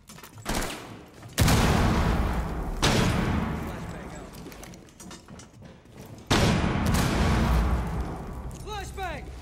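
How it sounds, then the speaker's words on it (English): Video game combat: a thrown grenade detonates amid sharp bursts of gunfire, with several loud, abrupt blasts and rattling shots and voiced callouts over the action. "Grenade out!"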